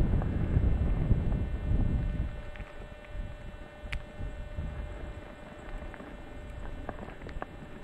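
Heavy wind gusts roar across the microphone during a steep, secured gully descent on Mosermandl in the Niedere Tauern amid snow pellets, loudest at first then easing into a steady buffeting rush with small ticks.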